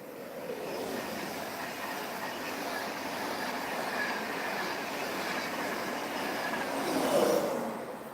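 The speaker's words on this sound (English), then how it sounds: "here comes another little train." A train rumbles past with a steady broadband roar of wheels on rails, swelling slightly near the end with a brief metallic squeal.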